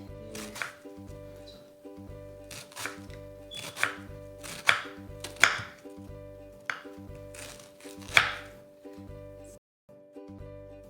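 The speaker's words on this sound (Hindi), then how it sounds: "अब एक प्याज बारीक बारीक काट लेंगे" A knife finely chops onion on a board, a steady series of close, sharp chops at an even rhythm, with no talk.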